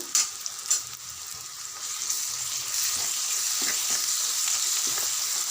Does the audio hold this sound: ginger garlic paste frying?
yes